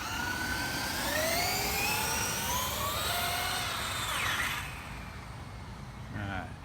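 A Traxxas Unlimited Desert Racer RC truck's electric motor at full throttle on pavement, a loud rising whine that sweeps upward for several seconds, then drops away as the truck passes.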